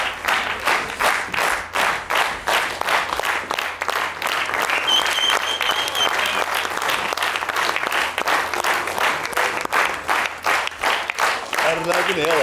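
A theater audience bursts into sustained, loud applause as the whole cast of a comedy show is called to the stage, dense rhythmic clapping filling the room throughout.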